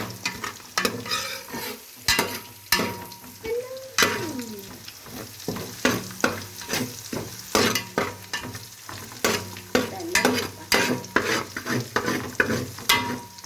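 Chicken curry ingredients fry in a pan while browning, a close sizzle broken by frequent rhythmic scraping and stirring clatter from a utensil, with no speech.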